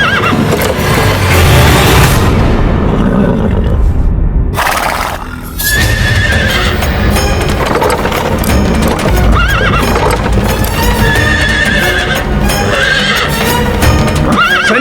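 A chariot horse in a mythological drama neighs several times while its hooves clop steadily, loud and close, with dense music and effects layered around it.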